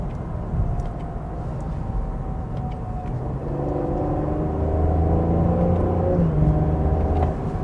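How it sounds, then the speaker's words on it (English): A Cadillac CT5 sedan with a twin-turbo V6 and 10-speed automatic cruising, heard from inside as a low steady engine and road rumble that rises slightly and smoothly partway through. "And with this 10-speed automatic, it shifts very smoothly."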